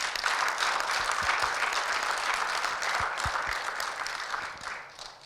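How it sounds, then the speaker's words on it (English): Loud, sustained applause from a conference audience at a panel discussion, dense clapping running steadily for several seconds before tapering slightly at the end. "really a loud clap"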